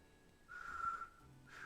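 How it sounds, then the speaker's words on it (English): A young woman in a visual novel game blows air tunelessly through her lips in a failed attempt at whistling. Two faint, breathy, wavering whistle tones come quietly and briefly, with no talk. "blowing air tunelessly through her lips in what can I only assume is an attempt at whistling"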